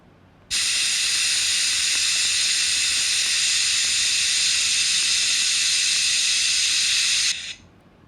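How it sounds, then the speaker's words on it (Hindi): A loud, steady hiss of steam jetting out for several seconds, then cutting off abruptly, like a pressure cooker releasing its whistle. "I can hear a cooker whistle."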